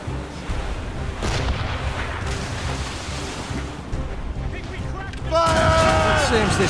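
Ship cannons fire in a naval battle in the video game Assassin's Creed Rogue: heavy booms roll over ocean noise and shouting crew, ending in a loud, sustained burst of cannon fire.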